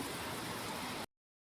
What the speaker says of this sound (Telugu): ఫుల్ వర్షం పడుతుంది అప్పటి నుంచి.